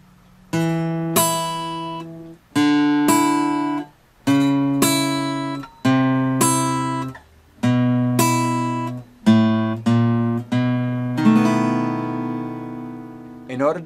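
Guitar plays a short slow-blues phrase of separate plucked notes and chord stabs, each sounding cleanly with brief gaps, ending on a longer ringing chord.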